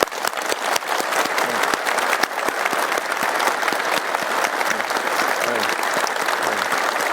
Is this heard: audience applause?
yes